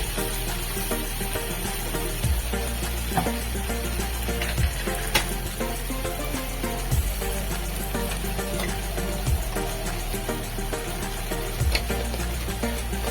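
Mustard paste, potato and drumstick fry in a pan with a constant close sizzle, while a spatula stirs and scrapes in regular strokes every couple of seconds; no one speaks.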